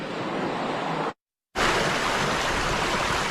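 Heavy rain pours onto a flooded road in the San Fernando Valley, a loud, steady roaring hiss of water that cuts to silence for a split second before resuming just as dense.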